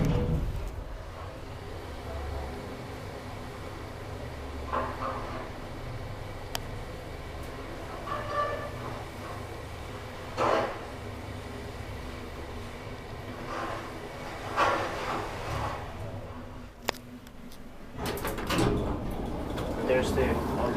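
An old Otis traction elevator in Lahti slides its door shut with soft rumbling and clunks, a sharp click near the end, while people talk quietly nearby.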